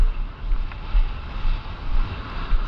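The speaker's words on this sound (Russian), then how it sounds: "Сносит ветер. Я слышу его завывание." Strong wind buffets the microphone in gusty, rumbling surges on a New York surfing beach, with a broad rushing roar that rises and falls; no voices.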